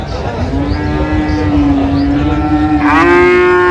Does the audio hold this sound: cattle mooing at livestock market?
yes